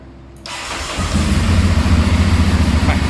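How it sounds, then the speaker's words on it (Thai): A 2014 motorcycle (796) fires up on the first try after a short starter whir, then settles into a loud, steady idle with an even throb from the stock exhaust, close up and without speech. "จิกเดียวติดเครื่องดีนะครับสมบูรณ์พร้อมใช้งานนะฮะ"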